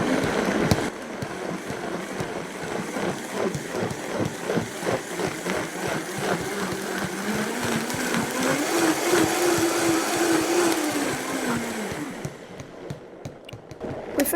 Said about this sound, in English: now we still gotta blend it a little more